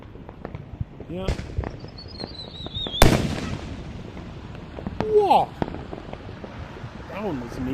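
Fireworks at a city-wide show burst in sharp, loud booms, one heavy blast standing out, with rising and falling whistles threading between the explosions while people nearby talk and exclaim.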